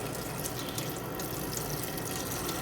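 Steady stream of water pouring and splashing from a water filter, a continuous hiss with no pauses, close by.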